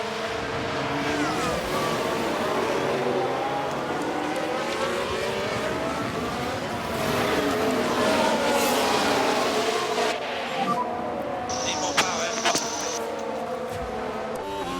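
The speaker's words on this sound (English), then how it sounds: "And there's Hamilton trying to get past Verstappen once more" Formula 1 race cars roaring around a Las Vegas circuit in the F1 Manager 2023 video game: a continuous layered engine drone with several cars' pitches rising and falling as they pass, steady and fairly loud throughout.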